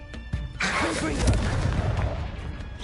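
A Confringo blasting spell detonates in the Hogwarts Legacy video game, a loud burst that swells into sustained rumbling crackle lasting a few seconds, with a voice speaking over it.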